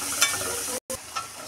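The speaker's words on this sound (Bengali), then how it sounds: "আমি গাজর কুচিটা একটু ভেজে নিব।" Chopped carrots fry in oil in a pan, a loud, close, continuous sizzle with stirring scrapes and a brief cut in the middle, no voices.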